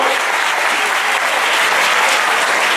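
A crowd applauds steadily and loudly throughout, a dense, sustained clapping at the CORTEM 2022 film awards gala held in the Cine Muñoz cinema in Tembleque.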